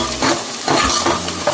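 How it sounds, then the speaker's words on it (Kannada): Small onion and a couple of dried red chillies sauté on a medium flame, giving a steady close sizzle broken by a few stirring scrapes in the pan. "ಇದನ್ನ ಮೀಡಿಯಂ ಫ್ಲೇಮಲ್ಲಿ ಇದನ್ನ ಬಾಡಿಸ್ಕೊತಾ ಇದ್ದೀನಿ"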